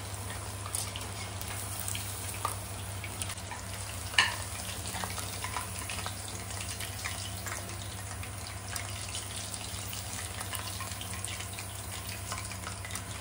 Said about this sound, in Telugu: ఆయిల్లో బాగా ఫ్రై అవ్వాలండి, లేకపోతే లోపల పచ్చి పచ్చిగా ఉంటుంది.